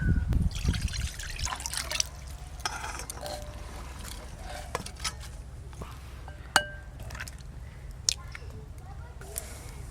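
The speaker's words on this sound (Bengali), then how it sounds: "কড়াতে জল দেবো" Hot water pours into a wok for an egg and cauliflower curry, a rushing, splashing stream loudest at the start and then fading to a low trickle, with occasional clinks of utensils.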